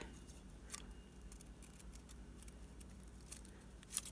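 Scissors cutting layered paper grass for a decorated never-ending book, a few soft, crisp snips spaced out over quiet background, close and faint.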